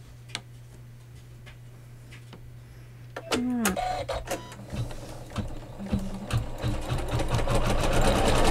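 Sewing machine tacking batting onto a quilted flange pillow, starting with faint clicks, then rapid needle stitching that builds and grows steadily louder toward the end.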